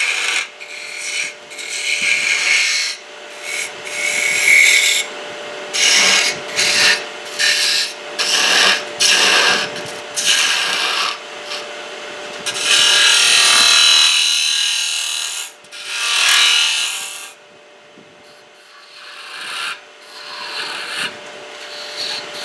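A wooden goblet stem is turned on a lathe, the cutting tool rasping and scraping against the spinning wood in loud, continuous bursts that rise and fall with short gaps, close up throughout.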